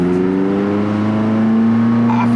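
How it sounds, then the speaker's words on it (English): A McLaren 600LT sports car engine pulls hard under acceleration, its loud, steady drone rising gradually in pitch as the revs climb, heard from inside the car. "here we are, first time driving in the McLaren 600LT"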